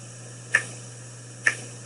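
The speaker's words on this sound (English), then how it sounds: "snap my fingers," Two crisp finger snaps about a second apart, short and bright, over a faint steady hum.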